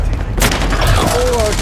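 Gunfire in Call of Duty: Warzone, a loud close burst of shots breaking in sharply after a quieter start, followed by continued rattling fire with a voice speaking underneath.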